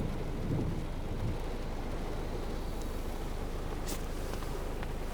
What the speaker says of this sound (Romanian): Așteptăm să treacă ploaia